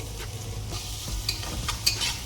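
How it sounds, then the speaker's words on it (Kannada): Onions fry in butter in a pan, a steady close sizzle broken by a few light clinks and scrapes of a spoon stirring. "ಆನಿಯನ್ನು ಚೆನ್ನಾಗಿ ಫ್ರೈ ಆಗಲಿ."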